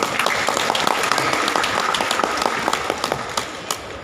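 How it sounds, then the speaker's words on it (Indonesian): An audience at a university graduation seminar in Tangerang Selatan applauds steadily, with a dense wash of clapping and sharper individual claps standing out throughout. "Tepuk tangan untuk Anda semua."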